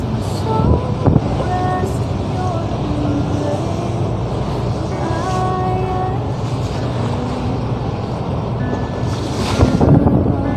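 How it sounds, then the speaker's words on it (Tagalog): Continuous heavy rumble of wind and big waves around a ship during Super Typhoon Odette, loud and sustained, with occasional gusts and creaks but no talking. "Di kay kasod ang hangin pero dagko gyapon kayong bawd."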